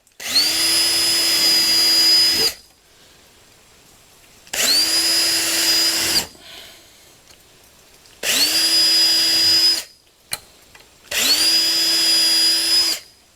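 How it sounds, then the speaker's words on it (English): Four separate runs of a power drill pre-drilling screw holes in a 2x4 for garage shelves, each a loud, steady high whine lasting about two seconds with quiet gaps between. "I'll be pre-drilling all these because these screws are going right at the edge of the 2x4 and I don't want nothing to split"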